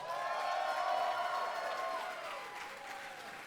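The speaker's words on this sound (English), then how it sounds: "Give yourselves all a big round of applause." A wrestling event crowd applauds and cheers in a steady wash of clapping with faint whistles, loud at first and easing slightly toward the end.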